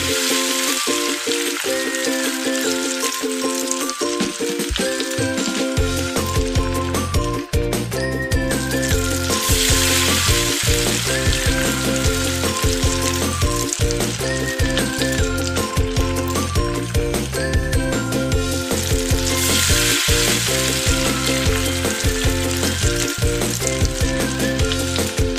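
Lumpiang shanghai spring rolls fry in hot oil with a steady, bright sizzle running continuously beneath loud background music with no break.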